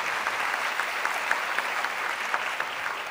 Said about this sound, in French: on peut l'applaudir en effet.